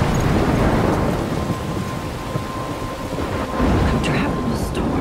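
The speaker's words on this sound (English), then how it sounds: "I'm trapped in a storm." Steady heavy rain and rolling thunder fill a stormy night near a lighthouse in the video game Life Is Strange, a dense continuous roar that swells slightly toward the end.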